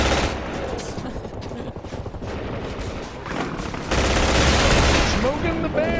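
A chain gun fires nonstop in a zombies shooter game set at Area 51, a loud, dense roar of rapid shots that swells louder near the end while a voice talks over it.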